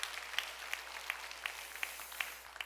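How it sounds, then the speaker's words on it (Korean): A church congregation applauds the teachers of the education department, quiet, somewhat distant clapping with a loosely regular pattern of sharper claps standing out over a soft continuous patter. "여러분 교육국 교사들을 위해서 여러분 박수 한번 해주세요"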